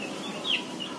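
Three-day-old chicks, young poultry on a farm, give a steady run of faint, high cheeps with one brief louder peep in the middle, no talking.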